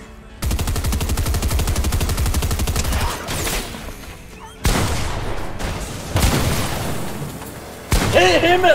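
Rapid automatic gunfire in a Fortnite match, a dense sustained burst followed by several more volleys and loud booms, close and harsh, with voices shouting over the shots.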